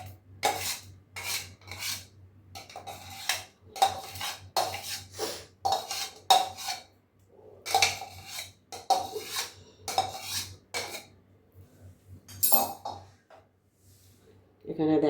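Ginger, garlic, onion and green chilli are ground into a paste in a home kitchen: repeated scraping, rubbing strokes in irregular bursts with short gaps between them, close by and moderately loud.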